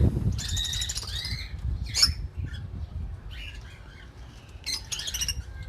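Lovebirds and cockatiels chirp and squawk in a breeding aviary, with sharp, scattered calls from several birds, some close and some farther off, and no talking.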